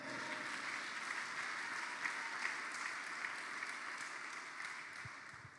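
A church congregation at a French-language seminar applauds steadily, a dense, even wash of clapping that holds for several seconds, fairly faint and with no voices.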